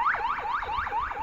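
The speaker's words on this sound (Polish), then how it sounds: "Widzisz, karetka. Ten sygnał znajomy." A Polish ambulance siren wails in a steady, repeating rising-and-falling pattern, about five cycles, loud and fairly close with no talking over it.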